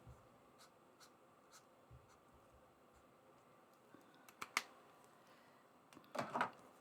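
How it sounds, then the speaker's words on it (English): A pen drawing lines on paper in a scrapbooking project, faint scratchy strokes and light taps close by, followed by a couple of louder rustling scrapes near the end. "And so I just take this down there and then draw the lines."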